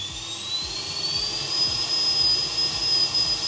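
A small model jet engine runs steadily on a thrust test stand, a loud continuous roar with a high, piercing whine held throughout.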